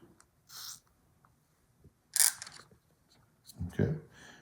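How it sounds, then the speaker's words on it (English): Short hissing bursts of spray grease lubricant are aimed at a rusty tool's spring and joint, three separate puffs with pauses between, the last one joined by a brief voice. "we'll want to spray these around the spring and right here"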